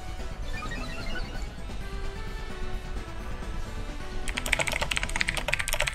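Computer keyboard typing during a Pokémon online battle, steady clatter that grows louder and denser in the last seconds over a continuous background of game music and sound.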